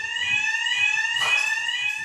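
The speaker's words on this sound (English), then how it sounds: "I'm not going to miss the fire alarm." A fire alarm shrills steadily in a training mock house, a continuous piercing electronic tone held without break, loud and close, with faint low rumbles beneath and no talk.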